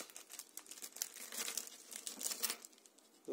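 Plastic parcel bag from China holding colored pencils being torn open, a few seconds of crinkling and ripping with sharp bursts, close and fairly quiet.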